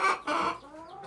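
Laying hens cluck softly at close range in two or three short, throaty calls, with no other sound.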